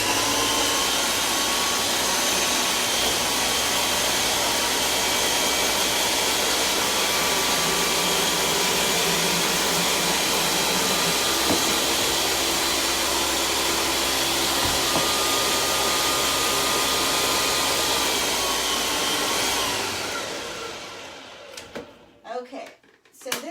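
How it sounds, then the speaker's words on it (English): A Ninja blender runs at high speed in a kitchen, giving a loud, continuous whir for about twenty seconds before it winds down and stops with a few clunks. "and I have a Ninja. I think it's the best blender on the market"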